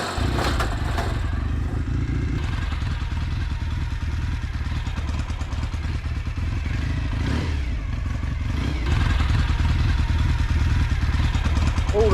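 A Norton Commando motorcycle engine fires up and settles into a lumpy, rough idle close by, with mechanical clatter throughout and a person speaking briefly over it.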